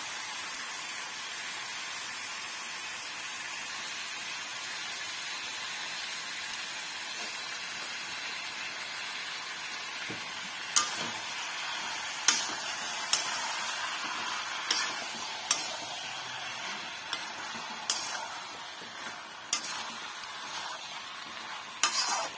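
Meat sizzles in a hot pan under a steady hiss while a spatula scrapes and stirs, producing a series of sharp clacks against the pan in the second half.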